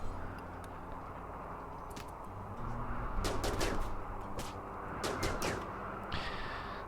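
Charge rifle fire in the Rimworld video game crackles in several sharp bursts over a steady low droning background, with clusters of quick reports midway and near the end.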